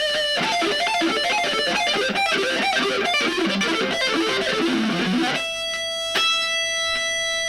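Heavily distorted electric guitar plays fast sweep runs through a LEKATO AG04 portable amp, a dense, continuous stream of notes for about five seconds before giving way to ringing, sustained tones and a single sharp hit.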